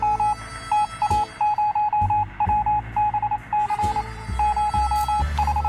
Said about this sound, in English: We can clearly hear a phone ringing outside.